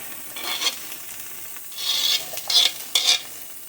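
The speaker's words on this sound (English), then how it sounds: "now that the pan is nice and hot, we're going to go ahead and start by adding our green peppers and our onions" Green peppers and onions cooking in a hot pan, a soft close sizzle with a few brighter scraping bursts of stirring that grow toward the end, and no speech.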